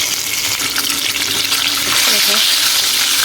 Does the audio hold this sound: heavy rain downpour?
no